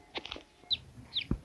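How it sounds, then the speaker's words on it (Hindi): A few faint, high chirps and peeps from a hen's chick, spaced irregularly over a quiet background with some soft low thumps. "कहाँ से चूचू की आवाज़ आ रही?"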